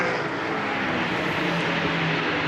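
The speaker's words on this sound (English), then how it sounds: "now he goes to full throttle, pedal to the metal, exit the final corner" A GT4 race car accelerates at full throttle out of the final corner of a circuit race in Queensland, Australia, giving a steady, loud, broadband engine roar that holds unbroken throughout.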